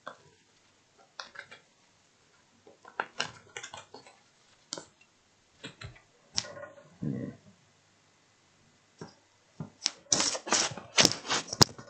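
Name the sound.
shuffling tarot cards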